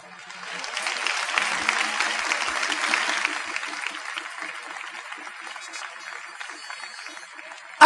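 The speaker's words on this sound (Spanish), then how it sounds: "Un aplauso al Señor." A church congregation breaks into applause during a sermon. The clapping swells quickly, peaks, then settles into a softer, sustained patter with a reverberant, roomy tone.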